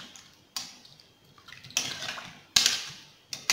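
Cassava pieces being stirred with water and salt in a cooking pot, giving several close, splashy sloshing bursts with a few small knocks against the pot and no speech.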